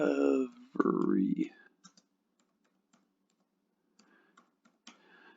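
Sparse clicks of keys typed on a computer keyboard come after a brief stretch of speech, with light, irregular taps spread out through the quiet that follows.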